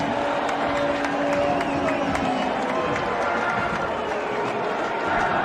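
Air Force football crowd at an Army vs Air Force game roars after a touchdown, a broad sustained stadium cheer with scattered claps and whistles, an announcer talking over it.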